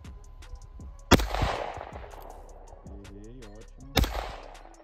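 Two sharp, loud gunshots, several seconds apart, ring out in an outdoor shooting test at a bowling ball, each one decaying quickly, with someone talking between them.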